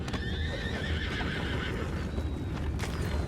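Horses neigh and whinny in Red Dead Redemption 2, with shrill repeated calls over a steady bed of hoof clatter and rumbling ground noise, loud and close.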